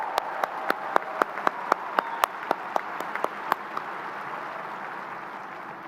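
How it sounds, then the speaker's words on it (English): A high school graduation crowd applauds the class of 2025 with a sustained wash of clapping, and a string of sharp, distinct claps stands out close by above it. "Let's give a warm round of applause for the incredible class of 2025."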